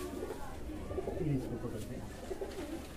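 Soft, low pigeon cooing in short rolling phrases, fairly near, with someone talking over it.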